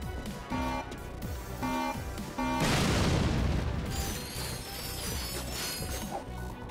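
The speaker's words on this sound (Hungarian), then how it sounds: "Ez itt robban." In the Ratchet & Clank video game, a loud, close explosion booms and crashes after a few short mechanical clanks, then fades into a rumbling, crackling tail.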